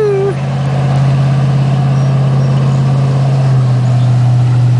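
A truck engine idles after launching a boat at the Snake River, a loud, steady low hum that drones evenly and close for the whole stretch, with no clear speech over it.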